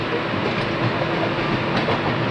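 The Puruliya SF Express rolls along the rails between Kharagpur and the next junction, a steady broadband rumble with faint clickety-clack from the wheels, continuous and unbroken with no voices.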